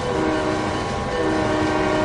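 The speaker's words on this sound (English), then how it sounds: "I like train horns." A train horn sounds continuously in the Trainz 2022 railroad simulator, a steady, loud, sustained multi-tone blast held for the whole moment over a low rumble of rolling rail cars.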